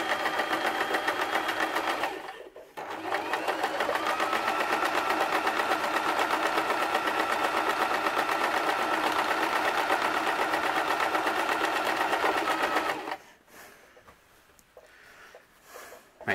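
A sewing machine stitching fabric runs in a steady, rapid mechanical whir, pausing briefly once, then stitching continuously before stopping near the end.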